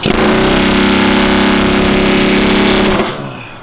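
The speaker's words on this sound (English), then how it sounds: "We're gonna hit this thing with the air hammer a couple times." A loud, rapid pneumatic air hammer pounds a car's metal transmission tunnel steadily for about three seconds, then cuts off abruptly and fades into quiet.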